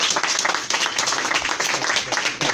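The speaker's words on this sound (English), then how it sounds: "Can we give him a round of applause?" Audience applause breaks out at a December 2021 fraternity and friends gathering: a dense, steady burst of many hands clapping together, loud and close, filling the short moment without pause.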